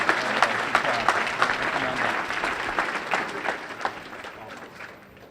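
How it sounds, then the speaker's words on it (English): Loud, dense applause from a crowd, sustained throughout and gradually fading toward the end. "Let's give him a round of applause"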